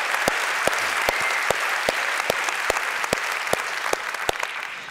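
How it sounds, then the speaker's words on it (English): An audience claps at a global forum's opening plenary, a steady run of sharp, close hand claps over a softer bed of crowd applause, carrying on for several seconds with no speech. "Yeah, clap for her."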